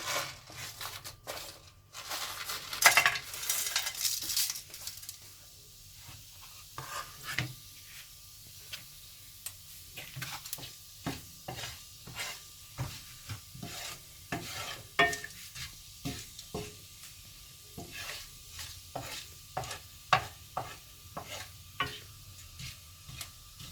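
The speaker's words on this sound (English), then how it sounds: "Now I'm adding the whole spices here." Whole spices, black cardamom, cloves and bay leaves, hit hot oil for chicken masala with a brief loud crackle, then settle into a soft sizzle punctuated by repeated sharp scrapes and taps of stirring, close and without talk.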